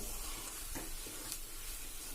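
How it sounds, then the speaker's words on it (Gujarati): Semolina halwa being stirred in ghee in a pan after sugar has been added, a quiet, soft scraping of the spoon over a faint, steady sizzle. "જ્યાં સુધી ઘી છૂટું પડે ત્યાં સુધી તમારે ખાંડ નાખ્યા પછી હલાવવાનો છે"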